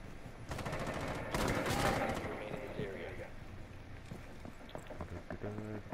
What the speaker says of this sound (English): Is that the sound of Habana's gun?